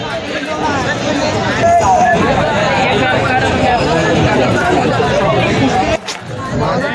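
A dense festival crowd at Dagdusheth Ganpati in Pune, with a continuous loud babble of many voices close around, lasting throughout with only a brief dip near the end.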